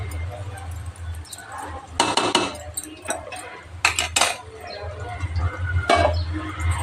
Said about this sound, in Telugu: నెయ్యి వేసి కలపాలి.